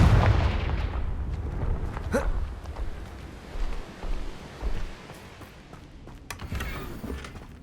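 A Confringo spell explodes in Hogwarts Legacy with a heavy opening boom that fades, followed by scattered impact thuds and cracks, with no voice heard.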